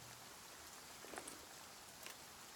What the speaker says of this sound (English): seeing as it's raining, seeing as I'm wet